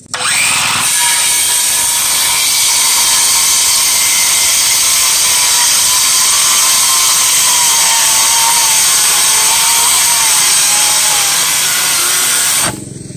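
A circular saw cuts wood for a portico build, a loud continuous high-pitched whine with the blade under load for about twelve seconds, starting and stopping abruptly.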